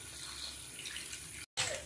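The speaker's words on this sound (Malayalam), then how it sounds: "ഒരു മഞ്ഞൾ വെള്ളത്തിലൊക്കെ ഇട്ട് ഞാൻ കഴുകി എടുക്കുള്ളത്" Spinach leaves being washed by hand in a basin of turmeric water, with steady close splashing and trickling that drops out for a brief moment near the end.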